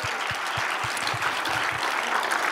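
A church congregation applauds during a worship service, a steady wash of many hands clapping at moderate volume, with a low rhythmic thump pulsing beneath it in the first couple of seconds.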